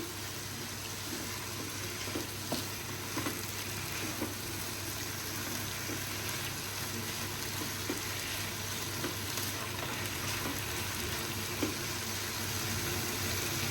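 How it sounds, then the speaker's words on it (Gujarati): Paneer and mushroom frying and being stirred with Maggi noodles, with a soft, steady sizzle and occasional light scraping clicks throughout, fairly quiet and with no talking. "આપણે એડ કરીશું પનીર અને મશરૂમ. Again mixing."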